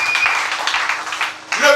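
A church congregation at a French-language worship service breaks into a short burst of applause, brisk and close, mixed with voices.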